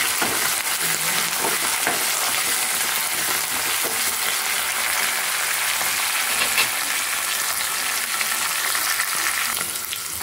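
Tempering of cumin, mustard seeds, curry leaves and dried chilies frying in hot oil for a tomato dal curry, a steady close sizzle with faint spattering and no talk.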